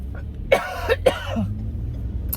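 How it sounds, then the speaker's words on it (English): A couple of sharp coughs close up, followed by a brief throat clearing, over a low steady hum. "Excuse me for coughing."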